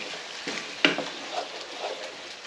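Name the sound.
stirring taco casserole mixture with cream cheese in pan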